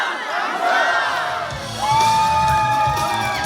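A crowd at a campaign office opening shouting a chanted word in unison, two loud massed calls in a row, with voices swelling and ringing out in a hall.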